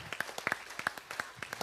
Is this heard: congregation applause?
yes